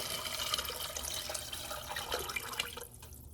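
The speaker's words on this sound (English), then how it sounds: "we're going to add in 5 cups of water" Water pours steadily into a heavy pot, a continuous bright splashing rush that thins and tapers off toward the end.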